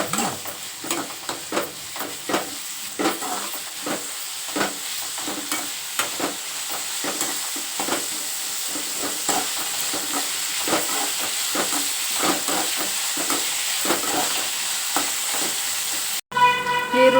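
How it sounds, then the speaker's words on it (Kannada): Onions frying with salt in a pan while making beetroot palya, a steady sizzle punctuated by frequent stirring scrapes and clinks, close and fairly loud throughout, with a brief cut near the end. "ಈರುಳ್ಳಿ ಚೆನ್ನಾಗಿ ಫ್ರೈ ಆಗಿದೆ"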